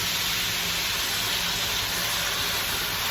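Hot water steams in a cooking pan with a sugar-sweetened dish, a close, steady, broad hiss that holds evenly without pause.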